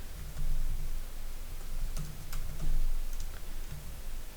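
Typing on a computer keyboard, a short run of soft, close key clicks in brief clusters over a low steady hum.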